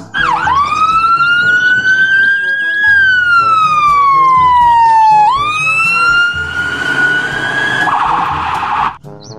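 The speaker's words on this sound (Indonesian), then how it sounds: "Di sini ada mobil ambulans." A toy ambulance siren wails continuously and loudly, its pitch sliding up and down in a steady electronic warble.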